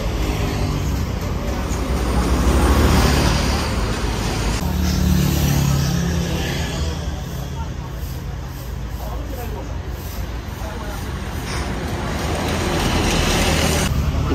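A new Santika Super Eksekutif bus on a Mercedes 1526 chassis arrives at a terminal amid steady traffic and road noise, its engine a low continuous rumble with background crowd babble.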